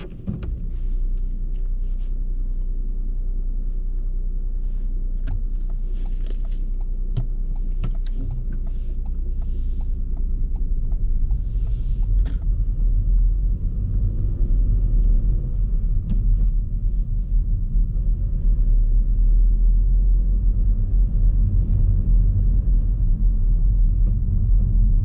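A car drives on the road during a driving test, giving a continuous low rumble of engine and road noise with a few faint clicks and rattles early on. The rumble grows louder and heavier as it picks up speed, and nobody speaks.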